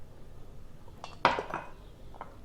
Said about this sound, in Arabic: هنحط السميد اهو كله كده مع بعضه في بولة كده اهي